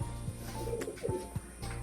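A male pigeon kept at home coos a few times in low, rounded calls close by, over a steady background hum.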